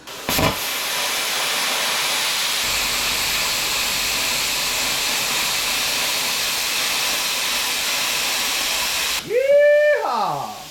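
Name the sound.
cheap plasma cutter cutting metal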